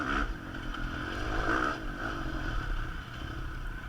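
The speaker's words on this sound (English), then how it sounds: "My bike is geared pretty high, so I'm pretty much able to go first gear through all the woods." A dirt bike in a pro-class motocross race is ridden through woods in first gear. The engine drones steadily and close, with clattering over rough ground throughout.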